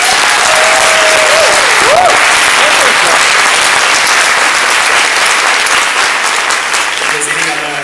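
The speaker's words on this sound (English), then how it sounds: "I especially ask you to just keep clapping for Richard Di Natale and his office" Loud, close, sustained applause from a packed hall at an Extinction Emergency event in RMIT Storey Hall, with a few whistles cutting through early on, thinning slightly toward the end.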